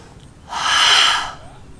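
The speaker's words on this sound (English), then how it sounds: "you take a deep breath in and you're going to fog up the mirror" A single forceful breath pushed out with an open-throated H sound, as if fogging a mirror during meditation breathing, close and fairly loud, swelling and fading over about a second.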